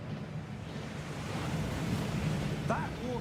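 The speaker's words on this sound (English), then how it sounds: "That waterfall washes away all enchantments." A waterfall pours over a vault track beneath Gringotts, a broad, steady rushing roar with a faint tonal squeal near the end.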